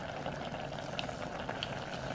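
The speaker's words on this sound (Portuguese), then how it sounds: "Ó, ferveu, tá pronto." A pot of instant noodles boils in a little water with seasoning, giving a faint, steady bubbling and sizzling with small pops scattered throughout.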